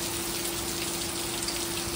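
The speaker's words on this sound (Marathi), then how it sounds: "इकडे बघा बाहेर जोरदार पाऊस आलेला आहे." Heavy rain pours steadily outside a home, a dense, continuous hiss of drops on surfaces with no break and no voices.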